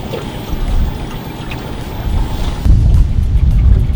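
A motor boat cruising along a marked river fairway, its engine droning steadily with water rushing against the hull, growing louder and heavier toward the end with no talk.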